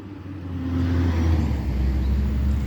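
A garbage truck on its collection route drives past nearby, a deep engine rumble that swells and stays heavy as it goes by, with no talk over it.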